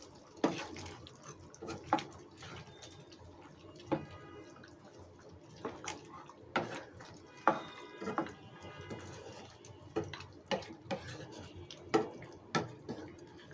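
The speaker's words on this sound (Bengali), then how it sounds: "এখন আমি গরম মশলাটা সব তরকারির সাথে মিশিয়ে দিচ্ছি।" Garam masala is stirred into a potato and pointed gourd curry cooked with hilsa fish head, heard as irregular wet clacks and scrapes of a spoon in the pot, some close and sharp, over quiet background.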